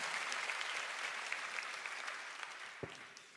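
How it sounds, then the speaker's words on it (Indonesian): A church congregation applauds its praise and worship team. Many hands clap in a soft, continuous wash that sounds fairly distant and fades gradually. "Boleh tepuk tangannya di extend buat tim praise and worship kita."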